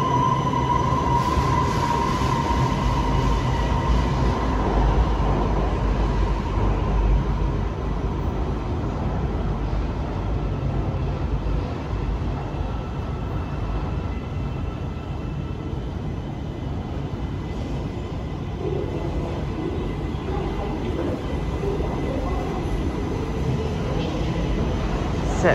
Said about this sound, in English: there's a train directly behind it.